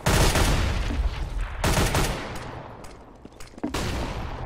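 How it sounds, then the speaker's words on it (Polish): A flashbang grenade going off in Counter-Strike, loud sharp bursts with a bright crack early on followed by further blasts and decaying ringing noise, close and dominant. "Throwing flashbang."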